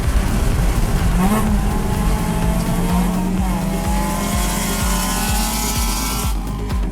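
Race cars roar around Clark Speedway during an endurance race, loud engines rising and falling through repeated gear shifts, with tire squeal as a car runs briefly off track.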